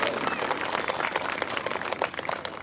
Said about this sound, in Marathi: टाळी वाजवून त्यांचं सर्वांचं स्वागत करूयात।